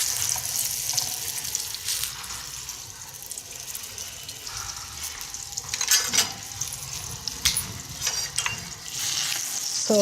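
Flour-dusted eggplant slices frying in hot oil, a steady broadband sizzle with light crackles and occasional stirring or handling clicks, close and continuous throughout with no talking.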